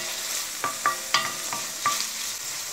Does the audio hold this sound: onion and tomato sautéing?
yes